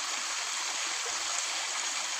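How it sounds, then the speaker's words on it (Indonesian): A river stream flowing near a small waterfall, a steady close rush of water with constant broadband hiss and no voices. "Nah, ini adalah aliran sungai."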